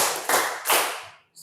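In a seventh-grade classroom, students clap in short rhythmic bursts, roughly three quick group claps that ring loud and close, with a brief pause near the end.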